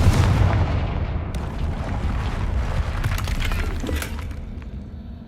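A Confringo fire spell explodes in Hogwarts Legacy: a loud, sustained rumbling blast with booming low end and crackling bursts over about five seconds, dying away at the end.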